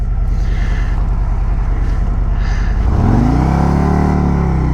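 Harley-Davidson Road Glide motorcycle pulling hard in first gear, a loud close engine rumble that rises sharply in pitch as it accelerates, with wind rushing over it and no speech.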